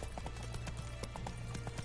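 Roach, a horse in The Witcher 3: Wild Hunt, gallops with rapid, rhythmic hoofbeats over a steady low rumble of game background sound.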